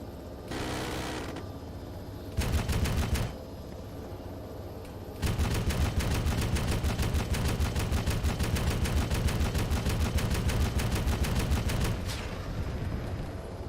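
Heavy machine gun fire in a military simulation game, loud sustained automatic bursts: a short burst, a pause, then a long continuous rapid stream of shots that runs for several seconds before tapering off.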